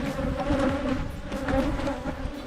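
African bees swarm around a hive, a dense, steady buzzing drone filling the air close by without pause.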